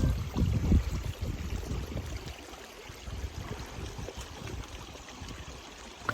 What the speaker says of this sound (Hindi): ये चश्मा पानी का बह रहा है,